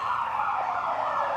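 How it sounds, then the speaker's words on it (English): Ambulance siren wailing in a smooth rising and falling sweep, fairly loud and steady over its brief span as the vehicle passes, with no voices. "Ambulance? Yeah, nah, they've gone past."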